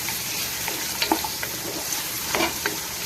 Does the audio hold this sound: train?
no